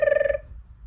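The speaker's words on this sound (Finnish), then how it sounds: "eräänä päivänä Murri Markkasen puhelin soi" A telephone bell rings in a short burst within an improvised comedy scene, a single loud trill that cuts off abruptly and leaves quiet room noise.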